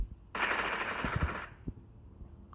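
Automatic gunfire from a PUBG video game, a dense, loud burst lasting about a second, followed by a few scattered single shots, with no talking.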